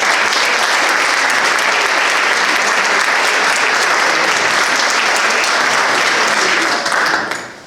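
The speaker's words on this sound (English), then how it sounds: "and everyone give a round of applause for Melvin." Loud, sustained applause from an audience at a city council candidate forum, many hands clapping evenly for about seven seconds before fading out abruptly at the end.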